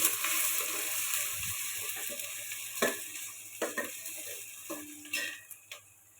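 Goat meat frying with onions in a pan, a steady sizzle running throughout with occasional clinks and scrapes of a utensil against the pan.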